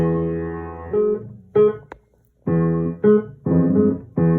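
Short, separate piano notes and chords, played without the sustain pedal, each dying away quickly with gaps of silence between them, dry and unsustained.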